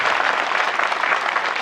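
A crowd at a funeral gathering claps steadily, a dense, loud burst of applause that runs without a break.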